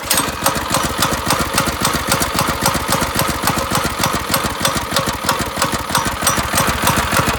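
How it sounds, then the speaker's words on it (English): Small go-kart engine running close and loud with an unstable idle, a rough, rapid, uneven chugging and rattling that continues steadily throughout with no talk over it. "I cannot get a stable idle on this thing"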